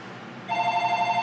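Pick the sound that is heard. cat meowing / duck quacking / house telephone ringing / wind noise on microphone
house telephone ringing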